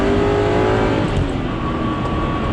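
A supercharged Aston Martin V8 Vantage accelerates hard under full throttle, its engine roaring loud and continuous from inside the car with a steady building drone and no talking.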